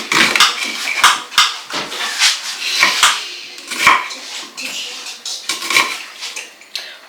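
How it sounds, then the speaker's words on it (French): Knife chopping onions on a board in a home kitchen, a run of sharp uneven taps and clacks up close, with occasional utensil clatter and no speech. "Ensuite, je coupe mes oignons."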